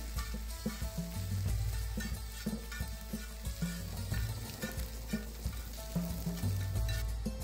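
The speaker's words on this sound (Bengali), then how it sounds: "এইবারে দিয়ে দেব ঝুরি করে কেটে রাখা পেঁয়াজ ও ঝুরি করে কেটে রাখা কাঁচা লঙ্কা। এইবারে কিছুক্ষণ ভেজে নেব।" Carrot, chopped onion and green chilli fry in a pan with a steady close sizzle, broken by occasional stirring scrapes and clinks, and no voices.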